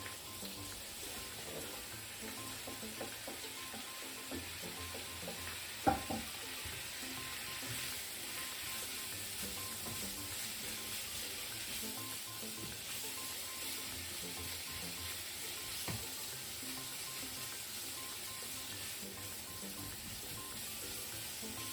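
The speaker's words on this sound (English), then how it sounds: "Heat up about a tablespoon of vegetable oil in the wok or frying pan." Sausages and onion saute in vegetable oil in a wok, giving a soft, steady sizzle throughout with one or two faint utensil clinks.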